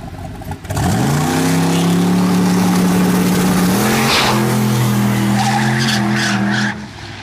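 A boosted drag race car launches and pulls hard down the track, loud engine roar climbing steadily in pitch over several seconds, with tire noise, then cutting off near the end.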